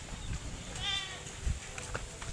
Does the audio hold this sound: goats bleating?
yes